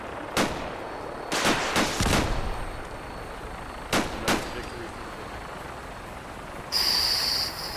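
Explosive launcher fire and blasts from mutants in the video game Fallout 4, several sharp bursts in a cluster early on, then two more near the middle, followed by a hissing rush at the end.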